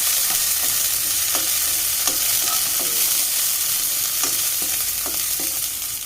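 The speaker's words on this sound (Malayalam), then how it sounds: "കുറച്ച് മുന്തിരി ഇട്ടെടുക്കാം ഇതൊന്ന് റോസ്റ്റ് ചെയ്തെടുക്കാം" Raisins roast in ghee in a pan with steady sizzling and occasional light stirring clicks from a spoon, no voices.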